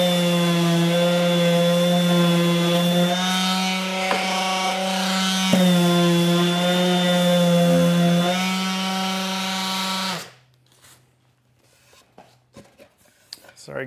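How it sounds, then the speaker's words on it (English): A power sander runs steadily on a wooden drawer part in a van build workshop, a loud continuous whine with strong harmonics for about ten seconds, then cuts off, leaving quiet room noise and faint handling sounds. "I'm just gonna hit this with a sander really quick."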